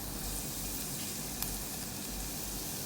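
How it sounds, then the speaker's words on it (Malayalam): Fenugreek seeds sizzle in hot coconut oil in a pan for Kerala-style fish curry, a soft, steady hiss with no talk over it. "ഇനി ഇതിലേക്ക് ഞാൻ കുറച്ച് ഉലുവ ഇട്ട് കൊടുക്കുകയാണ്"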